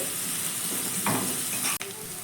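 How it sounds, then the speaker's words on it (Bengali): Onion and green chili fry in a pan while being stirred, a steady close sizzle with brief scraping strokes and one sharp clatter toward the end, with no talking. "প্রথমে পেঁয়াজ আর লঙ্কাটাকে দিয়ে দিলাম চার পাঁচ সেকেন্ড মতো হালকা একটু নাড়াচাড়া করে নেব"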